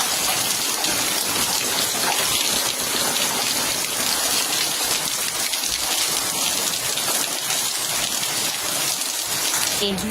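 Steady rain pours down hard and evenly, a dense continuous hiss of drops hitting surfaces, close and loud for the whole stretch.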